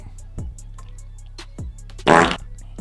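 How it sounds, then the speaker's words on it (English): A single loud, close fart erupts as a short raspy burst partway through, with faint clicks and taps around it. "Fart."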